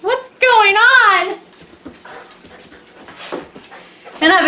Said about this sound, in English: he's my little wiener dog. He's like scared stiff.